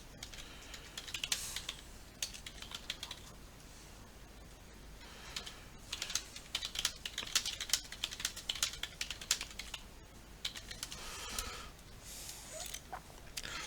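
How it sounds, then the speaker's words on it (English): Computer keyboard typing in rapid, uneven bursts during a Feed The Beast Minecraft play session, with short pauses between flurries of keystrokes at a quiet, close level, with no talking. "Look at that typing."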